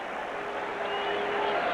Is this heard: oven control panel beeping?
no